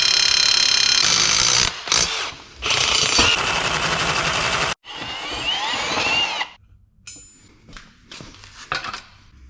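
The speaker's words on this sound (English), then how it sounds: "I'm gonna drill a hole and I'll bolt this right to the diff" Loud, harsh drilling of a hole into metal on a Civic Type R differential in bursts, a whining power drill grinding on and off with short pauses, then quieter clattering and handling noises.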